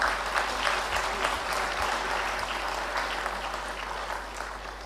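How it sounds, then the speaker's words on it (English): A conference audience at an opening ceremony for a sustainability education event applauds steadily, a dense, even wash of many hands clapping that holds at a constant level for several seconds. "My dear friends, let's have a round of applause."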